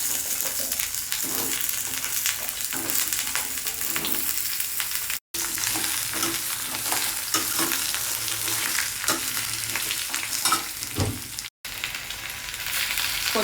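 Half a kilo of okra with two potatoes frying in about two spoons of oil, a loud steady sizzle throughout with repeated scraping stirs.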